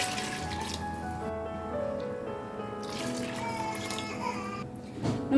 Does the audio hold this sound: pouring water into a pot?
yes